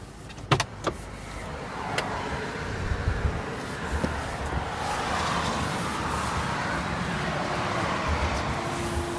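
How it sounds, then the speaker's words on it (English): The auxiliary heater of a 2019 Mercedes G500 runs with the engine off, blowing hot air as a steady whooshing hiss that builds and holds, preceded by a few sharp clicks and knocks near the start. "the car is preheating without the engine running. And it's quite noisy, so it means that it's blowing air, hot air, very nicely."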